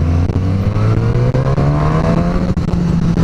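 Suzuki GSX-S 1000 motorcycle with a smooth inline four-cylinder engine, a loud, steady, close droning hum whose pitch climbs gradually as the revs rise.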